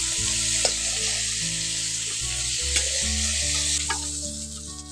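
Bay leaves, fennel seeds and black cumin sizzle in hot oil as a tempering, a loud continuous frying hiss close by with a couple of faint clicks. A low steady hum runs underneath and no one speaks.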